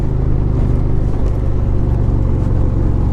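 A 2017 Indian Springfield bagger motorcycle accelerating on the road in sixth gear, a steady loud low engine rumble with wind noise, continuous and close.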